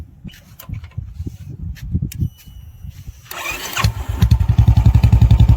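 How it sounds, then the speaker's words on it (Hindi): A Royal Enfield Bullet motorcycle engine starts up and settles into a steady, rhythmic idle that grows louder and thumps evenly, close by with no talking. "आगे चेक करना है आपको इंजन की आवाज़।"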